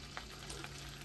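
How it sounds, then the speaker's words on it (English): Steady, faint sizzling of hot walnut and peanut brittle mixture in a microwave after vanilla is added, a constant crackling hiss with small pops scattered through it. "Ooh, it's sizzling."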